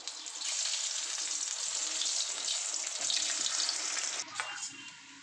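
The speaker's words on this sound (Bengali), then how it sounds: "প্রথমে আমি আলুগুলোকে একটু ভেজে নেব।" Potatoes frying in a pan, a steady close hiss and crackle of oil that runs continuously and eases slightly near the end.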